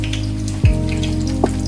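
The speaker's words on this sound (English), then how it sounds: "So guys, we have to fry the chicken." Chicken and onions frying in a pan give a steady sizzle under music, with one brief louder thump partway through.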